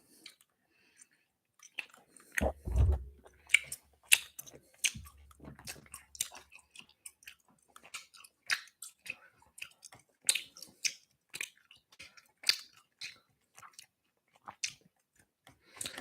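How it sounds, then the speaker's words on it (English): Close, wet chewing of gummy bears by someone wearing braces, with irregular sticky smacks and clicks repeating steadily for many seconds, no talking. "I apologize, yo, if I'm not chewing with my mouth closed. It's just because it's gummy bears, and it's sticking to my like braces, so I have to like chew"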